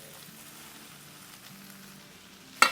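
Cabbage and a bunch of green onions, cut in large pieces, going into a hot pan for a Chinese-style chicken stir-fry. A low, faint sizzle runs throughout, then a sudden sharp hiss bursts out near the end.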